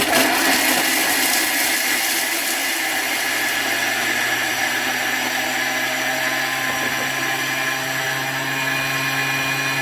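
A Thermomix TM6 food processor whirs loudly and steadily for about ten seconds as it chops, a dense, even motor roar with no pauses.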